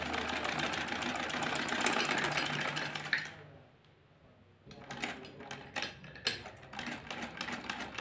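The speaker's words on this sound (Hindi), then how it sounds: "इस तरह से अपनी सिलाई स्टार्ट करूंगी मैं" A sewing machine stitches piping onto the edge of a dupatta. It runs with a steady, fairly quiet mechanical whir, pauses briefly, then restarts in short uneven bursts.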